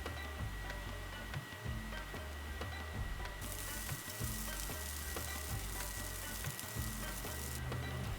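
Big Mountain Cauli Crumble veggie grounds frying in a pan with garam masala, giving a dense, continuous crackling sizzle with faint ticking, close and steady throughout, with no talking.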